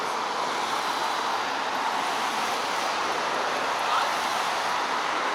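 Steady, loud wind roar buffeting the built-in microphone of a Sony FDR-X3000 action camera outdoors, a constant dense rush without pauses and no voices.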